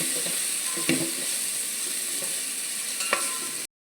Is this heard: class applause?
no